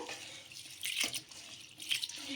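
Water sloshes and splashes in short bursts as rice is swished by hand and water poured off, quiet and close with brief pauses.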